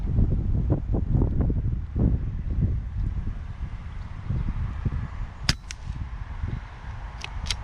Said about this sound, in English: not a good day for it, this wind, but oh, it's really picked up now. It's probably killing the microphone.